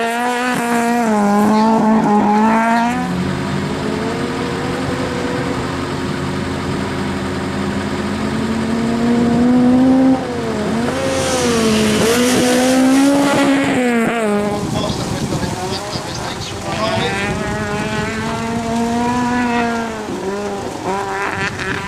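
A Fiat Uno autocross car cornering on a track, its engine loud and close, revving up and down through the gears with rising and falling pitch and occasional tire squeal, running continuously throughout.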